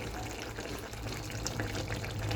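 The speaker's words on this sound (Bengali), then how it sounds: "এবার একটু সামান্য সর্ষের তেল দেব" Mustard oil is poured into a potato curry as it cooks, giving a soft, steady liquid trickle, quiet and close, lasting a couple of seconds with no talk.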